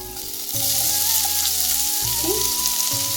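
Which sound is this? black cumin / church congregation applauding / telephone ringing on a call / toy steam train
black cumin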